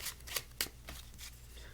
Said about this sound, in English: we'll give the deck some shuffles, and just like this,